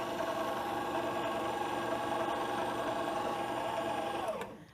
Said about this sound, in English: we're going to put it on speed 3 and mix until it's really smooth